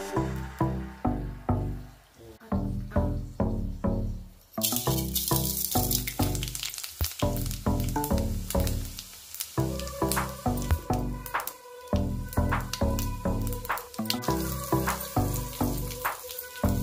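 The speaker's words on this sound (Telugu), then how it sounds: "ముందుగా నూనె వేసుకుని తర్వాత తాలింపు సరుకులు ఒకటి తర్వాత ఒకటి వేసుకుని" Spices crackling and sizzling in hot oil as tempering ingredients go into the pan one after another, with repeated bursts of spattering pops, close and loud, rising to a denser, steady sizzle.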